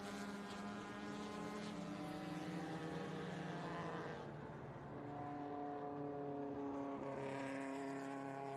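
A 1987 BMW 325i race car on a road course at full throttle, engine tone shifting through gears, accompanied by other cars, steady and fairly faint, no talk.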